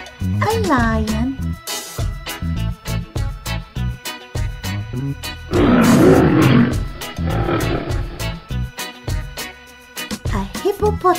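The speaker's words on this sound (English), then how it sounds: "A lion." A lion roar sound effect from a Peppa Pig wild animals jigsaw puzzle toy bursts out loud for about a second, with cartoon voices and chatter before and after it.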